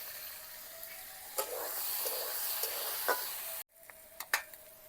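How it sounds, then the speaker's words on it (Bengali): Eggplant fries in a pan with only turmeric, giving a steady close sizzle with occasional clinks of a utensil stirring, and a brief break before the sizzle resumes. "শুধুমাত্র হলুদ দিয়ে বেগুনটাকে ভেজে নেব"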